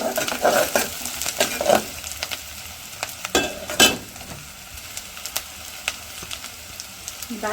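Garlic and spices fry in a pan in a village kitchen, giving a hissing sizzle with a series of quick scraping and tapping strokes from a stirring utensil, busier at first and then sparser.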